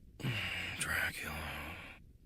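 A sleeping voice clip of Sonic from Smash Ultimate, a single drawn-out snore with breathy inhale and exhale lasting about two seconds, moderately loud and heard alone.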